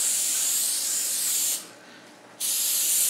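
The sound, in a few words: spraying olive oil onto dough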